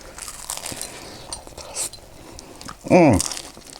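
A flaky homemade butter croissant with jam is bitten into, giving one short, close, crisp crunch near the end after quieter rustling and faint sounds.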